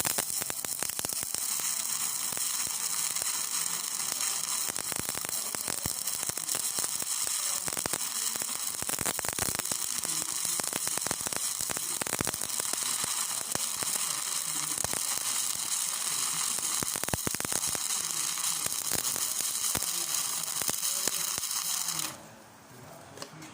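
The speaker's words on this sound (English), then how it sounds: "I'm going to put a little bit of weld on there with the stick welder." A steady, loud crackling sizzle of stick welding on steel plate runs almost unbroken for over twenty seconds, then cuts off abruptly near the end.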